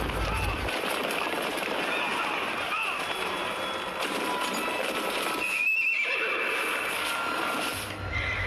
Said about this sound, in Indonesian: pasukan kuda yang datang untuk menangkap Guru Qiuji